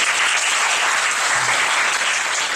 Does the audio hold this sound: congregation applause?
yes